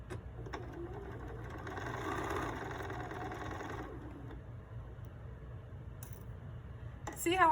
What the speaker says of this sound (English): I am sewing to the right of the line